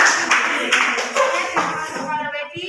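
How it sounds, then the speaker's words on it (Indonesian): A small audience claps after a student presentation in a classroom, a short burst of uneven, close hand claps that thins out after about two seconds. "Tepuk tangan."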